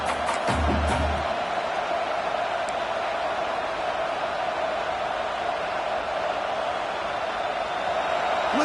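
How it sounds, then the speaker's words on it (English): Stadium crowd at a football game, a steady loud roar of many voices filling the whole stretch, with a brief heavier thump near the start. "Listen to the crowd energy here in the early going."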